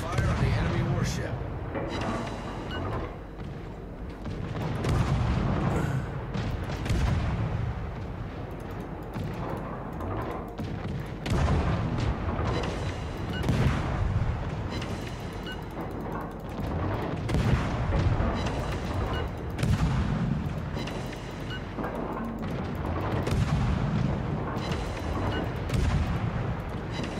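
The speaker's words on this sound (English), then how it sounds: "Concentrate fire on the enemy warship." Naval guns from warships in World of Warships fire heavy, repeated booming salvos at an enemy ship, rumbling continuously over dense battle noise throughout.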